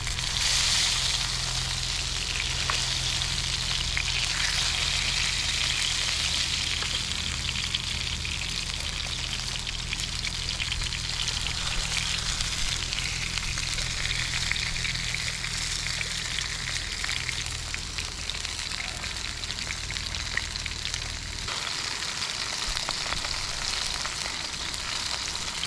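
Burgers sizzle and spit in a pan on a gas camping stove at a wild camp by the River Tyne in Northumberland, a loud, continuous crackling fry that eases slightly near the end.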